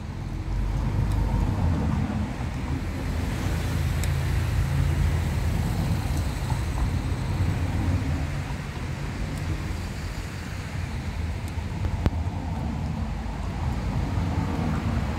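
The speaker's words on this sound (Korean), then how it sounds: "차 소리." Steady low rumble of traffic rolling past, a continuous road wash with no clear gaps, heard from a moderate distance without any talking.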